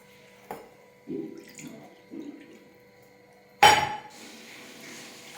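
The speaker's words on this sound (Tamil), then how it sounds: "அடுப்பில் ஒரு பேன் வச்சுருக்கிறேன் அதில் வந்து நான் இன்றைக்கி ரெண்டு கப் அளவுக்கு தண்ணி சேர்த்துக்கிறேன்" Soft kitchen clatter and a few low knocks, then a sharp metallic clank followed by a steady hiss of about two cups of water running into a pan on the stove.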